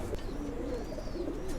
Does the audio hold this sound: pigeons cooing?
yes